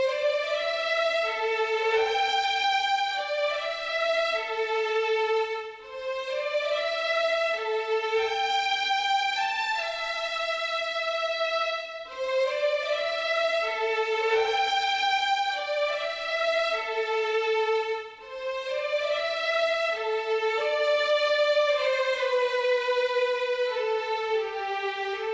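An orchestral violin melody moves in legato steps, shaped with mod wheel swells and sustain pedal for a sweeping adventure-score feel. It plays steadily and loudly throughout, with no voices.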